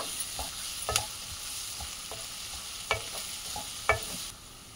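Onions and green chillies frying with curry leaves in a pan, a steady soft sizzle broken by several sharp scraping clicks as a spoon stirs against the metal.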